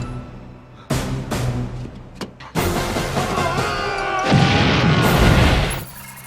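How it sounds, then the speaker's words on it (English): A grenade explodes in a Hulk Hogan action movie: a sharp crack and heavy booms, then a loud, rumbling blast with crashing debris that fades away. "Live grenade!"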